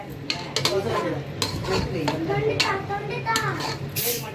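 Chicken is added to a pot of gongura (sorrel leaf) biryani masala and stirred, with repeated metallic clinks and scrapes of a spoon against the pot while children chatter nearby.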